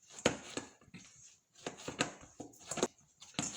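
Bread dough for Jamaican boiled coconut cornmeal dumplings is kneaded by hand in a bowl: quiet, close, irregular slaps and pats come in small clusters with short pauses between them.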